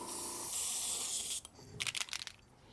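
A spray can hisses steadily as shamrock green paint is applied to a Battletech miniature, then stops, followed by a few faint rattles and handling noises.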